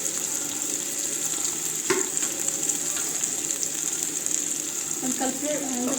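Onions frying in a pan for a chicken fry give a steady, close sizzle with occasional stirring clicks, and a brief louder scrape comes near the start.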